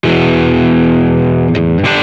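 An electric guitar chord rings through the Amplitube amp simulator with a harsh, fizzy, heavily distorted tone, loud and close, sustained for over a second before a couple of quick string scrapes and a new attack.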